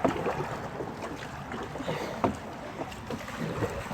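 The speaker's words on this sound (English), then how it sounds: "You're gonna have to start paddling more." Kayak paddling on tidal water at Hilton Head Island, with a steady wash of water and faint wind noise, plus soft, irregular splashes from nearby strokes and no voices.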